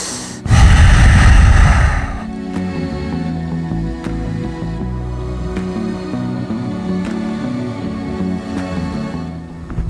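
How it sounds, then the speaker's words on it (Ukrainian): A loud, forceful breath through the nose opens the yoga breathing practice, followed by quieter breathing during agnisara kriya abdominal movements, heard close over soft background music. "ми робимо вдих, видих і агнісара крія, коливальні рухи животом"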